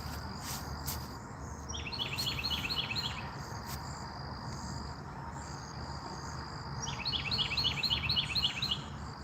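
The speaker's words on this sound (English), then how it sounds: "You hear the birds?" Birds, including cardinals, chirp and tweet outdoors in repeated bursts of quick high calls, with a steady insect-like drone and mild wind in the background; no one speaks.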